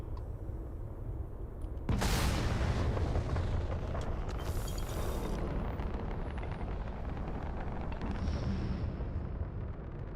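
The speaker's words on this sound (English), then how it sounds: "the cannons just fire on our enemies" Ship cannons in Starfield open up on enemy craft with a sudden loud blast, followed by a sustained roaring rumble and scattered impacts during a space fight.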